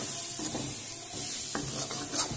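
Green peas roast in a pan for a matar nimona, with soft scraping stirs and a light sizzle in short bursts, close and fairly quiet, with no talking.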